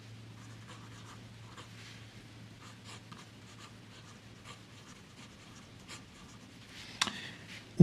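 Fountain pen nib scratching softly across paper, writing with Private Reserve Avocado green ink, a faint continuous scritch with small strokes over a low steady hum, ending in a louder knock.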